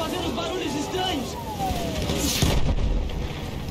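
Booming artillery blasts go off amid a busy battlefield din in Battlefield 1, with a heavy engine drone running underneath.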